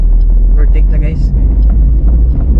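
A car overtakes on a road from Libona, Bukidnon toward Cagayan de Oro, making a loud, close, low rumble of engine and road noise while people talk over it.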